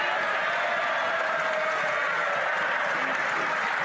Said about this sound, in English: This is her getting a standing ovation from the Conservatives for saying that